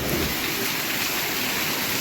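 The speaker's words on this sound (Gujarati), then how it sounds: "ધબધબાટી ચાલુ થઈ ગઈ છે અમારે વરસાદની" Heavy rain pours down at night as a loud, steady, dense roar, close and unbroken, with no talk over it.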